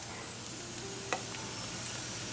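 Green mung dal frying in a pan under a steady, soft sizzle, with a faint scrape or tap of stirring partway through, quiet and continuous.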